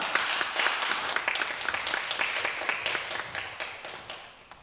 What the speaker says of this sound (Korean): 여러분 뜨거운 박수로 우리 목사님 환영하도록 하겠습니다